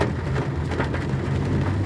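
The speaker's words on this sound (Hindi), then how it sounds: "बहुत हेवी बारिश हो रही है" Steady, dense hiss of heavy monsoon rain pouring continuously in Mumbai, with a low rumbling undertone and no voices.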